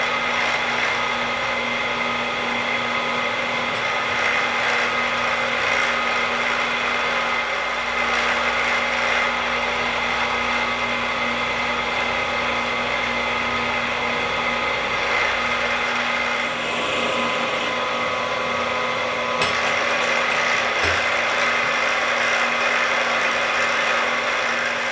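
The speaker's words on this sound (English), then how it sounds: "Before I grind though, I want to drill the holes in the handle." A power drill whines steadily and continuously at close range, its motor droning with slight changes in pitch as it bores holes through a knife handle.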